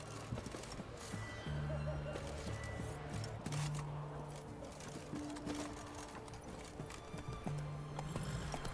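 Hoofbeats of Roach, Geralt's horse in The Witcher 3: Wild Hunt, galloping at a steady clip-clop pace under game music and ambient sounds, fairly close and continuous.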